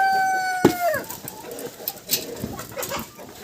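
A chicken gives a few clucking calls nearby, with a sharp knock early on and light rustling in the background.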